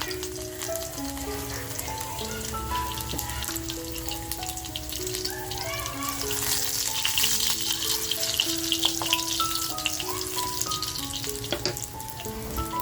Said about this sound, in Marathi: तेल छान तापले लसूण टाकते